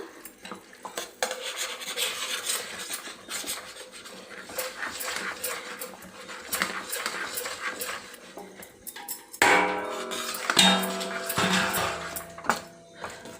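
Gram flour is stirred into sugar syrup in a pan for Mysore pak, giving close, repeated scraping and clinking of a utensil against the vessel. Sharper metallic knocks come toward the end.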